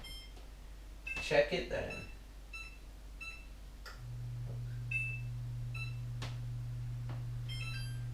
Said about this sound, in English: We're going to set our timer for 10 minutes and